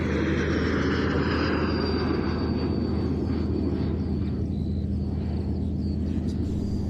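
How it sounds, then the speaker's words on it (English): A Saab 105 jet aircraft flying at an airshow, a sustained engine roar that is loudest at first and gradually fades and thins as it passes into the distance. "This, known by its manufacturer as the Saab 105, was designed in the 1960s as a military and civilian aircraft"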